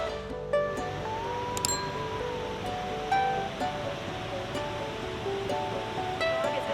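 A waterfall seen on a forest hike in a thunderstorm, giving a continuous broad rush of falling water with thin bird chirps scattered over it.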